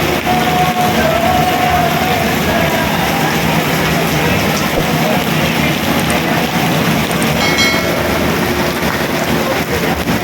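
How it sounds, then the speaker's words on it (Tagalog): Heavy rain pours in a constant, loud hiss that stays dense and unbroken from start to finish, close by, with no other clear sounds over it. "Grabe ulan"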